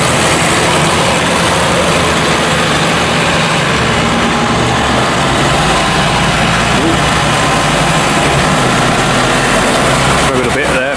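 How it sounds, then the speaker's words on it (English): A tractor engine drives over concrete during a maize harvest, a loud, dense, continuous rumble that fills the whole stretch and rises slightly near the end. "So I can get the tractor in. I'm just driving over."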